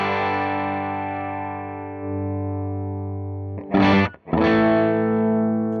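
An electric guitar runs through an AMT V1 preamp into an AMT Pangea cabinet simulator, a sustained distorted chord ringing and slowly fading, then two sharp restruck chords near the end.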